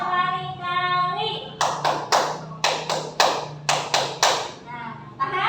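A class of schoolchildren claps hands in a quick series of sharp, loud bursts, ten or so claps in uneven clusters, after a teacher's sustained speaking voice at the start.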